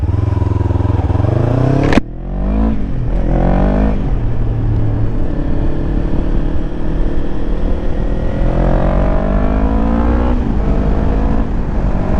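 A motorcycle rides along a road on a cold January day, its engine droning steadily up close with a brief sharp rev change early on and pitch rising and falling through gear shifts.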